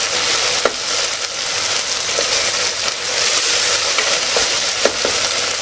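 Onions fry in hot oil for vegetable biryani in a pressure cooker, a steady loud sizzle broken by occasional scraping taps as they are stirred.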